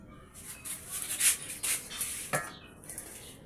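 Washed dishes being put away in a home kitchen, with light clinks and scrapes of utensils against each other, soft and close, with short gaps between handling sounds.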